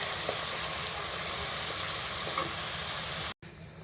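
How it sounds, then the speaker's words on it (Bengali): Potatoes and chicken pieces sizzle steadily in a hot pan for a home-style chicken curry, a dense continuous frying hiss that cuts off abruptly near the end. "আলুগুলো একটু কষাবো।"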